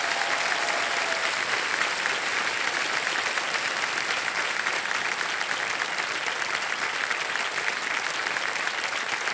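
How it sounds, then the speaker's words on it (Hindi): Studio audience of the KBC game show breaks into loud, sustained applause that holds steady and dense for the whole stretch, with no voices over it. "जोरदार तालियां बज जाए इनके लिए।"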